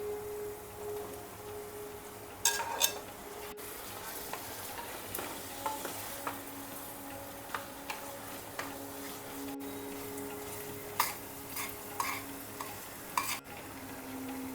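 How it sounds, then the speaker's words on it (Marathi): Bell peppers and onions fry in a pan for a pav bhaji, with a steady sizzle under repeated sharp spatula scrapes and stirring clicks, close and moderately loud, with no talking. "इथे आपली शिमल्या मिरच्या आणि कांदा छान फ्राय झालेले आहेत"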